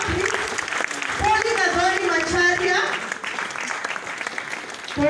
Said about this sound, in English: A better clap for Victor, please.